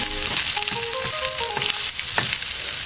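Food frying in a wok as a cook stirs it briskly, a steady loud sizzle with scraping strokes and a few metallic clinks throughout.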